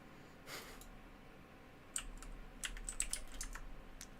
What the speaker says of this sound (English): I'm just tapping keys,